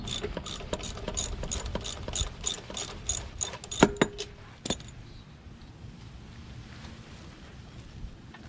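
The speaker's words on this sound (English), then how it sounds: "I'm gonna take the spark plug out and stick a screwdriver in to see if the piston moves." Ratchet wrench loosening a rusty spark plug on a Briggs & Stratton engine of a Troy-Bilt rear-wheel-drive lawnmower, a quick run of close metallic clicks that stops after about four seconds, followed by quieter background.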